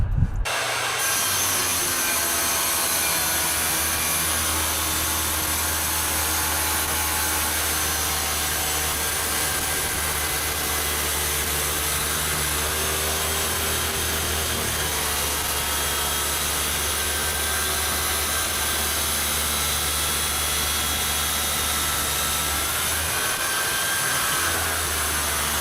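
A wet saw cuts through tile in one long continuous pass, a loud, steady whining grind with a low motor hum underneath that holds for the whole stretch, close by and with no talk.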